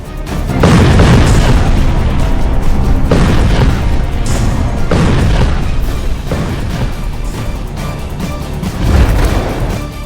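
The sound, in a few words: Turkish super bunker buster bomb exploding through concrete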